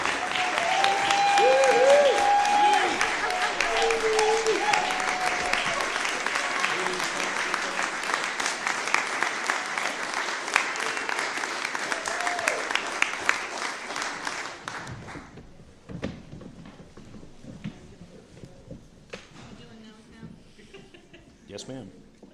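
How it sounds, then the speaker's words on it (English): A hall full of people at an annual town meeting in Mount Desert claps loudly for about fifteen seconds, then the applause drops away to scattered claps, shuffling and a few quiet voices. "a really serious round of applause for"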